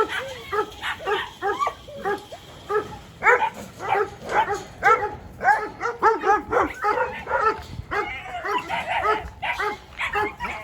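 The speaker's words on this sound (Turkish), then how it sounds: "şu havlamalar konusu inanın beni de çok rahatsız ediyor arkadaşlar" A small dog barks repeatedly in rapid, yappy bursts, fairly close, with some whiny yips mixed in and brief pauses between volleys.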